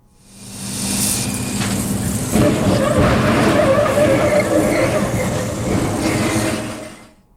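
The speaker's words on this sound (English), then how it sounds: "here we now have a truck, no people inside, being delivered to this barrier to check and see the strength at about 50 miles an hour" A driverless truck with no one aboard speeds toward a roadway barrier at about 50 mph and slams into it in a crash test, a loud sustained roar and grinding rumble that swells and lasts several seconds before fading.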